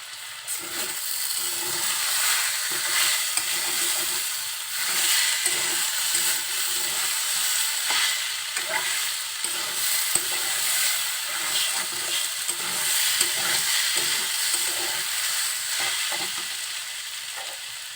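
Potato bhaji fries in a covered pan, with a steady sizzling hiss and rhythmic scraping as the potatoes are stirred, close and continuous.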